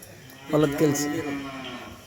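A single drawn-out cow moo, loud and close, rising then trailing off over about a second and a half.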